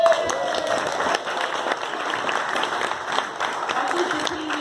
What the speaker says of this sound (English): Let's cheer as the king enters the room.